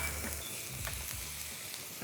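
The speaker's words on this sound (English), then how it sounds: "So first thing I'm gonna do is throw some butter in here." Half a stick of butter melting in a pan for buffalo wings, giving a soft, steady, low-level sizzle and crackle close by with no talk.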